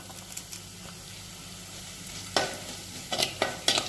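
Ginger, garlic and curry leaves fry in hot oil for a rambutan pickle, giving a steady close sizzle broken by a few sharp stirring scrapes in the second half, with no voices.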